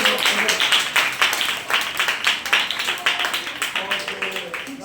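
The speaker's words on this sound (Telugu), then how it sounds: "చప్పట్లు కొట్టండి అందరూ ఆయనకి." Children clap at a Sunday school program for a child called up from the beginner class, a quick patter of many small hands running steadily under a buzz of voices.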